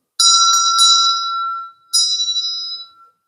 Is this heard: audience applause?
no